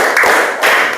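A classroom of students claps in unison during a group cheer, two loud bursts of hand claps a fraction of a second apart, close and bright.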